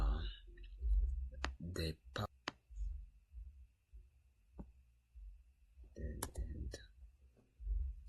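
Computer keyboard typing in short bursts of sharp clicks, some keystrokes loud and close, with quiet gaps between them and someone speaking over parts of it.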